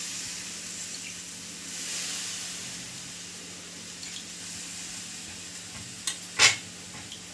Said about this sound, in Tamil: போட்டுட்டு நல்லா ஸ்போர்க் வச்சு மிக்ஸ் பண்ணிங்க.